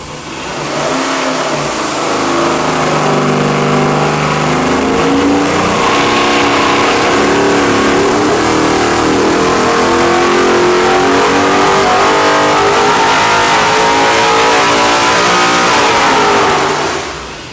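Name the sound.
700 hp 441-cubic-inch LS engine revving on a dyno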